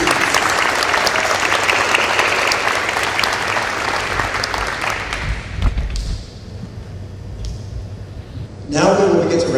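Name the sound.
audience applause for outstanding students at graduation ceremony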